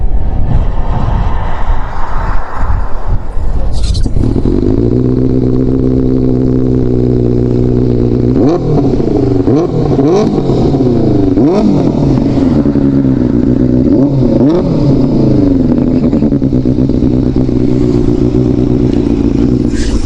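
The inline-four petrol engine of a Benelli TNT 600i sits at a loud, close idle, then is blipped through a run of sharp rising-and-falling revs before settling back to a steady hum.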